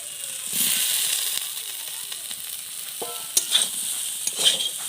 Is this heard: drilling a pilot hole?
no